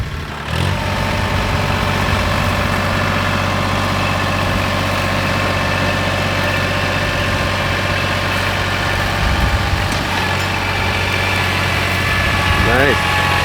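A small John Deere H tractor engine runs steadily close by, a constant low throbbing drone that holds through the whole stretch, with faint voices over it.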